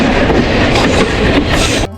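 A passenger train rolls along the rails near a former junction station on a journey from Chittagong toward Bandarban, giving a loud, steady rumble with a clattering wheel beat that cuts off abruptly near the end.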